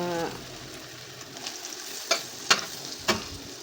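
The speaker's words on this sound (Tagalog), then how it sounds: "Iprito natin siya at pakuloyin lang natin guys ng konti." Burger patties frying in butter in a pan, a steady close sizzle with a few sharp spatula scrapes and clinks toward the end.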